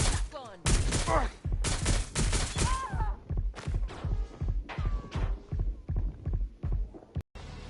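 Gunfire in a PS4 shooter game: a dense series of loud, booming shots in rapid bursts, with clipped reports and short gaps between volleys and some electronic in-game sounds.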